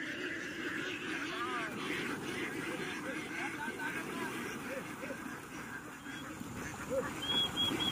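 A flock of domestic ducks quacks and honks continuously in a farm setting, a dense chorus of nearby calls under faint background noise, with people talking among them.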